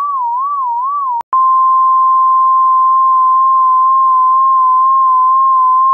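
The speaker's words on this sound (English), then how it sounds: "So you're constantly phase modulating with a sine wave." A sine wave in the Xfer Serum synthesizer, phase modulated by a built-in sine, plays a wobbling, vibrato-like tone, then breaks with a brief click and settles into a steady, nearly flat pure tone with slight wavering.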